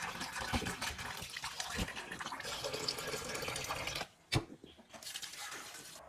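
Tapioca (kappa) being washed under a running kitchen tap, a steady close splashing stream for several seconds that stops abruptly, leaving a few drips and faint handling noises.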